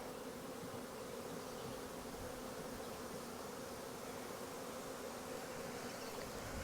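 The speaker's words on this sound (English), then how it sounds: "You can see there's a lot of bees in there." Many bees drone steadily inside a hive box condensed from several boxes, a continuous, fairly faint buzzing swarm sound with no voices.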